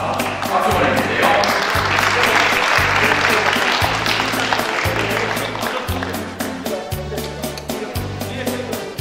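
A church congregation applauds at a Seoul regional presbytery council prayer meeting, sustained crowd clapping from a large room over a steady rhythmic musical accompaniment, thinning toward the end into more distinct individual claps.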